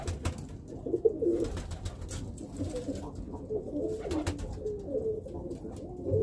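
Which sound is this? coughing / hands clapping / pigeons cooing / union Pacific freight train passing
pigeons cooing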